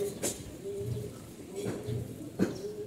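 A small red racing pigeon coos softly in a loft, with about three low, throaty coos spaced through a quiet background and a faint murmur of voices behind.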